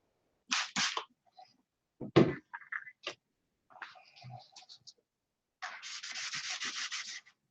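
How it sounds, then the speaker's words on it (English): Light sanding with 600 grit sandpaper on a painted finish, short bursts of a few scratchy strokes then a longer steady run, close by with brief pauses between. "So I'm lightly sanding, and not much pressure."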